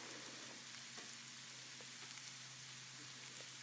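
Grated carrot poriyal with added salt fries quietly in a pan. A faint, even sizzle runs throughout, broken by occasional soft scrapes of stirring.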